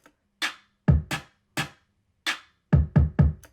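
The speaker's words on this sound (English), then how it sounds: "I also have an auxiliary snare, and it sounds like this." Sharp, punchy auxiliary snare hits ring out alone in an uneven groove, about nine strikes with quick doubled and tripled hits toward the end.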